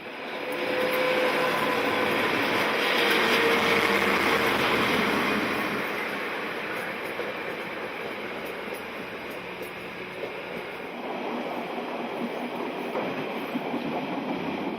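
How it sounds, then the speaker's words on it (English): A faster Trans-Alpine train rolls past while the other train waits in a crossing loop at Coralin, a loud broad rumble that swells then eases into a steady lower drone, no voices heard. "We get put into the crossing loop at Coralin to let the faster Trans-Alpine train that has caught us up to go past."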